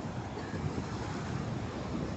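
Ocean surf at Boa Viagem beach in Recife, a continuous low wash of waves mixed with strong wind buffeting the microphone, steady and without speech.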